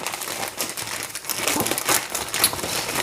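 Plastic wrapping crinkles and rustles from a canvas being unboxed, close up, in irregular crackling bursts with a few sharper snaps.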